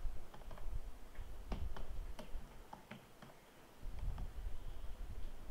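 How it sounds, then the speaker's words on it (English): Someone types a name on a computer keyboard: faint, irregular key clicks in short bursts with a brief pause near the middle, in a quiet room. "in here you will type your name"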